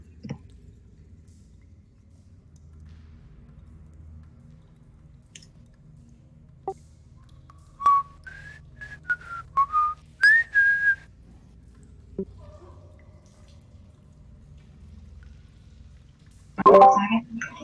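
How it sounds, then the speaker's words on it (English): A person whistles a few short, sharp melodic phrases in an otherwise quiet room, followed by a brief burst of noise near the end. "they have absurdly accurate whistling skills"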